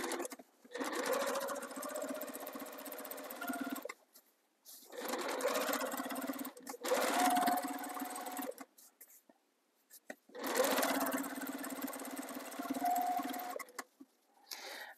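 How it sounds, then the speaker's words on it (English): A sewing machine stitches quilt binding a quarter inch from the quilt's edge, running in three steady, close bursts of whirring stitches with short pauses between them and no talking. "I'm going to start stitching 1/4 inch from the edge of the quilt"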